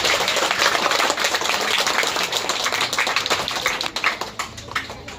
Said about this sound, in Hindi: आज हम एक बार जोर से ताली लगा के उसका अभिवादन करते हैं।